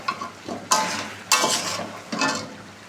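Cooked meat is stirred in a pan in three distinct bursts of scraping and sizzling, each a short, close, fairly loud sweep of the spoon against the metal.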